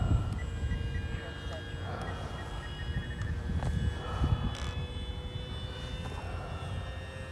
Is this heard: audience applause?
no